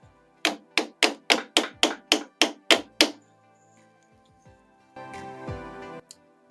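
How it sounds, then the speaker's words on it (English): Nine quick, evenly spaced light hammer taps ring out close by, driving in a table cover cap, then stop, followed by a brief rustle and one last faint knock. "Probably need a light hammer to hammer it in."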